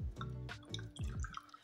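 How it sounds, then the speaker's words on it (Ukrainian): Vinegar, about 55 grams, poured into a jar of tomatoes being pickled for winter, giving a brief close trickle and dripping splash with soft background noise. "Все, наливаю уксус."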